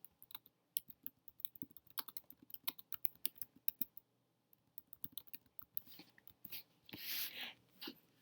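Fingers type quickly on a computer keyboard in a quiet room, a close string of irregular soft key clicks with short pauses and a louder burst of rustle near the end.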